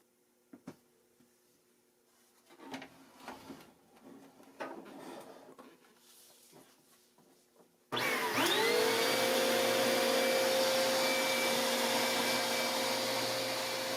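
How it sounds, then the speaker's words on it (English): After some quiet shuffling and knocks, a Dirt Devil Featherlite upright vacuum cleaner with a newly replaced belt switches on and runs loudly and steadily, its motor whine holding constant to the end. "I will now power the vacuum to test for proper operation"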